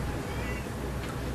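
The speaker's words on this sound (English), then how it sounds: "Goddamn cat." A cat meows once or twice in a room, quite faint against steady background noise, during a band interview.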